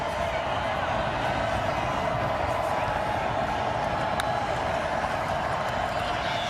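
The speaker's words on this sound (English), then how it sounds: "Listen to this crowd here in Stephenville" A football stadium crowd in Stephenville roars steadily during an NCAA FCS championship quarterfinal between Villanova and Tarleton State, a dense, constant wash of distant cheering with no single voice standing out.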